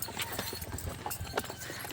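A horse's hooves clip-clop in a steady quick rhythm as it hauls a load of coconuts in Tayabas, close and fairly loud with faint background noise.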